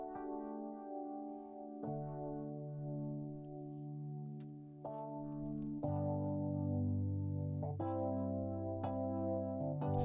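Studio One Rotor rotary speaker plugin with drive switched off and mono width, swirling sustained tonal chords with shifting harmonics, several chord changes, steady and fairly quiet throughout.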